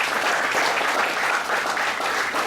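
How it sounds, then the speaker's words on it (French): Warm, steady applause from an audience at a graduation ceremony for a language institute's graduating class, dense clapping filling the room without a break. "Sur vos applaudissements, applaudissez Mr."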